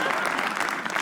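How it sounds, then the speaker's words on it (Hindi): Brief burst of audience applause at a comedy roast show, dense clapping heard at a moderate level for about a second. "एक बार चिराग के लिए ताली बजा दो।"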